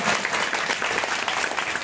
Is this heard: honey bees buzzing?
no